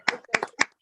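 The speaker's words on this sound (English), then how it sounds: "A lovely long clap" A few separate claps from a graduation ceremony audience on a video call, three quick sharp bursts over under a second, close and moderately loud with no talking.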